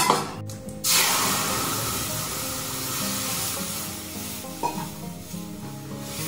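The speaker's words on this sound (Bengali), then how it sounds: "চলো ডালটা বসিয়ে দিই।" A pot of dal (lentils) is set on the stove to cook, giving a steady close-up sizzle and hiss. A couple of short metallic knocks come as the pot is placed and stirred.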